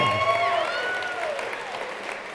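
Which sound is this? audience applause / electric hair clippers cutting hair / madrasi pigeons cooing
audience applause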